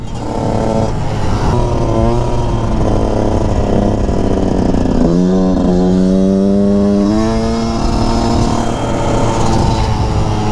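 A Yamaha YZ 125 two-stroke dirt bike fitted with an Athena 144 kit drones steadily nearby, its engine note climbing in a few sharp revving sweeps while riding, with no talk over it.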